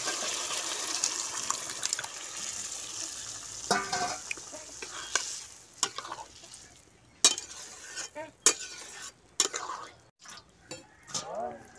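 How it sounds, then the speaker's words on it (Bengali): Boiled vegetables and dal are stirred into a cooking pot, giving scattered scraping and clinking hits with wet sloshing, loud and close. A quieter sizzling bed runs underneath. "এইবারে আমি সেদ্ধ করে রাখা সবজি আর ডালটাকে এর মধ্যে দিয়ে দিচ্ছি।"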